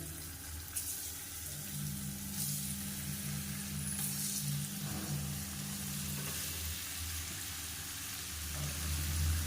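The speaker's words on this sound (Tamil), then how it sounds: "இப்போ நல்லா ஃப்ரை பண்ணி எடுத்துக்கலாம் நல்லா கோல்டன் கலரில் வரட்டும்" Paneer frying in hot oil in a pan for a South Indian side dish, giving a steady broadband sizzle with faint low hum underneath, continuous and moderately close, with no talking.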